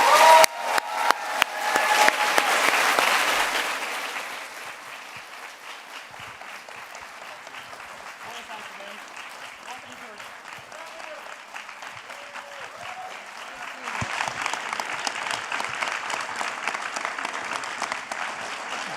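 A crowd at a talk featuring former U.S. Ambassador Nikki Haley bursts into loud applause and cheering as speakers take the stage. The clapping fades to a murmur, then swells again near the end.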